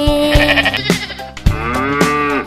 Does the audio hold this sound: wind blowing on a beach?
no